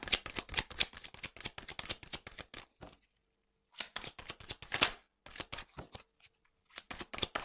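Tarot cards are cut and shuffled up close in rapid riffling bursts, three runs of dense flicking separated by short pauses.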